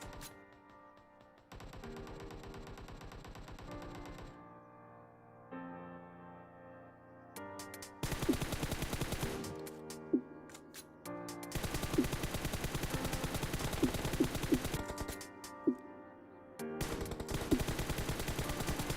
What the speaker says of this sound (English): Here I am not controlling recoil, and this is the recoil of M416.